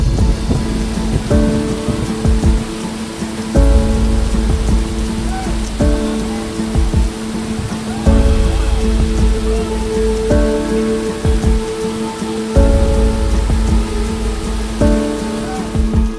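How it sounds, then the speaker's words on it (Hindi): The Amboli waterfall in a dense monsoon forest roars as a loud, constant broadband rush of falling water, heavy like downpour, with tonal background music layered throughout. "घने हरे भरे जंगल के बीच बड़े बड़े चट्टानों के बीच में ये वाटरफॉल स्थित है।"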